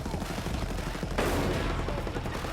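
Gunshot in Ghost Recon Breakpoint, a single sharp crack about a second in, rising out of a dense, rumbling game background.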